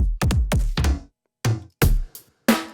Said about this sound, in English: what you're hearing now is that personal folder of drum samples that you like